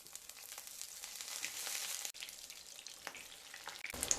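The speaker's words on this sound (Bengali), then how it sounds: "তেল গরম হয়ে গেলে দুটো বড় সাইজের কেটে রাখা বেগুন দিয়ে দেব।" Eggplant pieces sizzle and crackle steadily in hot mustard oil in a pan, a dense, continuous fry close by with a brief dip just past the midpoint and no talking.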